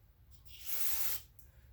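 Brake cleaner gives one short, close hiss as it is sprayed onto a rag during a GM 2.4 Twin Cam engine build. The burst lasts about half a second and stands alone against quiet background noise.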